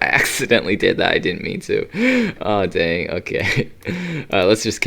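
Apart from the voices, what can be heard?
No everyday noises stand out.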